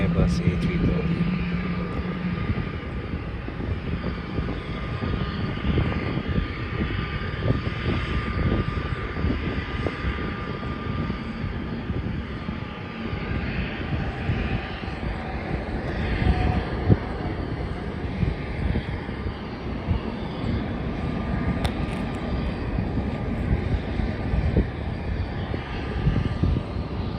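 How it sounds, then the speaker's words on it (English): An Airbus A330 airliner at Melbourne Airport produces a steady, loud roar of jet engines with wind buffeting the microphone throughout, and a person talks over it. "That is an Airbus A330."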